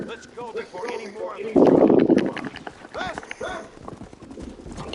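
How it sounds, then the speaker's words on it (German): Horses in the Western video game Red Dead Redemption, a burst of rapid hoof clip-clop mixed with game dialogue, with someone talking over it. "Looks like Carlos left us some horses."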